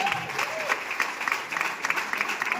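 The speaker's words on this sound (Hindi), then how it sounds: "चाहूंगा मम्मी के जोरदार ताली।" Loud applause from an audience at a speech event, a dense steady wash of clapping lasting the whole stretch with no talking over it.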